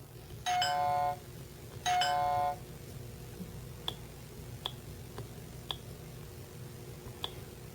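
Two clear electronic doorbell chimes from a brain-exercise video game ring out in quick succession, followed by several faint, sparse ticking clicks over a low background hum.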